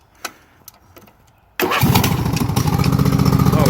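A Craftsman lawn tractor engine with its muffler removed starts after a few faint clicks, then runs loud and raw, a harsh close-up rattle with no talk over it.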